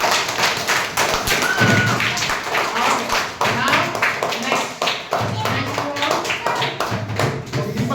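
Children clap in a classroom in short bursts of dense clapping with thumps and taps, while a teacher speaks briefly and chatter carries over the top.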